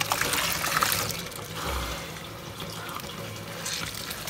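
Clean water trickles and splashes as natural virgin hair for wig making is rinsed in a sink or basin, a close, moderate, uneven pouring with soft gurgles throughout.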